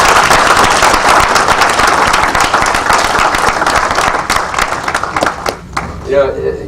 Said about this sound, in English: And I'd like to give those guys a round of applause.